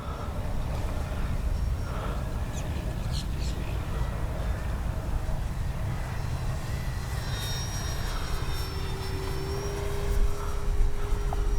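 A Durafly 1100mm T-28 Trojan electric RC model plane cruises at about three-quarter throttle, its motor a steady, moderately distant drone with a thin rising whine near the end, while outdoor background noise continues throughout.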